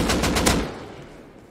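AK assault rifle fire in the video game Rust: a quick burst of about five rapid, loud shots that then trails off into a fading reverberant tail.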